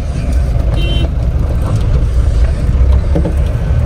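A car's engine drones steadily as it accelerates over a speed breaker after a gear change, heard from inside the cabin with a constant low rumble and faint road noise.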